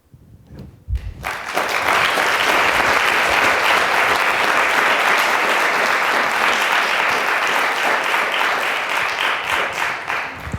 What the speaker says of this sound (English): I've never seen poetry get applause before.